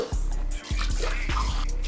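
Water poured for cooking, two cups' worth, with liquid drips and splashes arriving in several short bursts, close and moderately loud, no talking.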